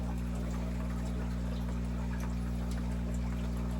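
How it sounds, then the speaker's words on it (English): Water trickles slowly and steadily into a nano aquarium tank during setup, a soft continuous flow over a loud, constant low mechanical hum. "Just get a nice slow drip."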